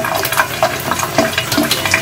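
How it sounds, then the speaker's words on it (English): Running water splashes and trickles steadily over metal clinic instruments being rinsed of soap, a close, continuous wash with small irregular splatters. "we're gonna rinse that soap off"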